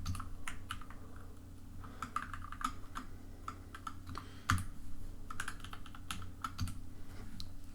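Typing on a computer keyboard, with steady rapid key clicks and a few louder taps, close and clear over a low background hum, no talking.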